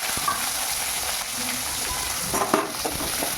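Onions sauté in hot oil with fennel seeds, bay leaf and cinnamon for a prawn thokku, giving a continuous even sizzle with a few brief stirring clicks near the end.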